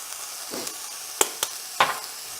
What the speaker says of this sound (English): And I'm going to give this a big stir again to incorporate everything.